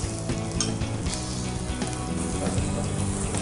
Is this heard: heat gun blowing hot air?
no